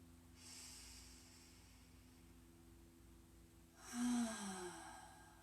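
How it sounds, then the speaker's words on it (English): Slow cleansing breath during a yoga session, a soft inhale through the nose followed by a longer, louder exhale through the mouth, quiet and close with no talking. "In through the nose and out through the mouth. This is a cleansing breath."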